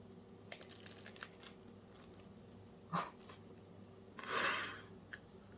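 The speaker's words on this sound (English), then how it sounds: "Listen for the crunch. Y'all, this is why it's artisan bread." A crusty no-knead artisan loaf baked in a Dutch oven is bitten and chewed: two distinct crisp crunches, up close in a quiet room, with faint scrapes between.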